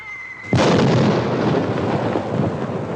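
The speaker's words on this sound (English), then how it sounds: "That ain't thunder, that's cannon fire." A sudden loud boom of cannon fire erupts after a brief quiet tone, then rolls on as a long, rumbling roar that slowly thins.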